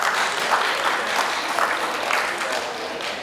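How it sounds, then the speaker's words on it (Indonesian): Steady applause from a room of guests at a halal bihalal gathering, honoring the eldest attendee; dense continuous clapping, fairly close and even throughout with no voices on top. "Yang paling sepuh itu Pak Sutoyo. Wah, itu perlu diberikan aplaus."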